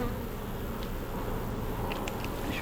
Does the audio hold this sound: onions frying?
no